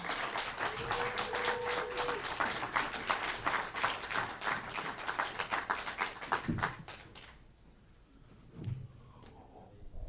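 Crowd at an educational forum in 2023 claps steadily for several seconds, moderately quiet and dense, then the applause tapers off into near silence with a few faint stray sounds.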